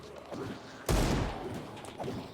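A single loud Desert Eagle pistol shot in a zombie video game rings out, sharp and booming with a lingering tail, over a low background hum.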